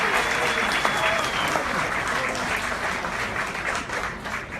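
Sustained audience applause at a lecture on civil procedure code changes and real estate law, a loud, dense field of clapping that slowly thins toward the end, with a voice briefly audible over it.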